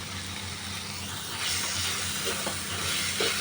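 Ground spices, onion and tomato frying in a pan for mutton keema ghugni, a steady close sizzle with soft stirring scrapes, continuous and moderately quiet with no talking.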